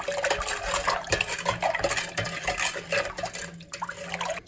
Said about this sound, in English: I have about 1 gallon of water in my Instant Pot, and I'm gonna take 1 tablespoon of sanitizer, and I'm just gonna pour that in